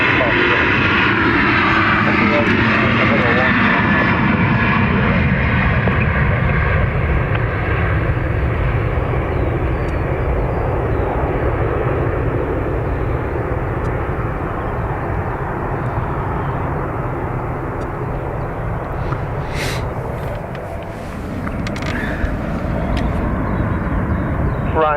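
Aircraft engines roar steadily at Dublin Airport for a long stretch, loud and sustained as a plane taxis and powers up for takeoff, with faint radio voices now and then.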